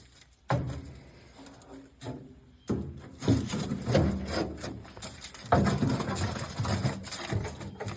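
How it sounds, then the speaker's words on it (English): Metal grease pan slid into a Green Mountain pellet grill, with intermittent scraping, rubbing and knocking of metal against metal in several bursts, close and fairly loud. "now we're gonna put in a grease pan. My long lip goes to the right as I'm putting it in."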